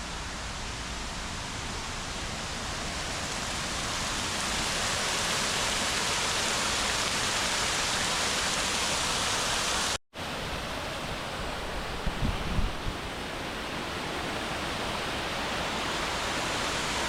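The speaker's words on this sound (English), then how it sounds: "the Crum Creek Dam, which is like a waterfall" Water pours steadily over the Crum Creek Dam like a waterfall, a loud, unbroken wash of noise that stays constant and cuts out for a brief moment.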